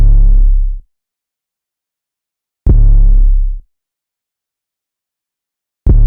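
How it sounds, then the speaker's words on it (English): An unprocessed 808 bass pattern in a dark orchestral beat: deep booming hits with short decays, separated by long gaps of silence, loud and alone. "for the drums I got this 808 pattern that sounds like this"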